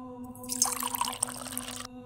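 Water poured into a drinking glass as a sound effect, a short bright trickling pour lasting about a second and a half over a steady background hum, heard alone.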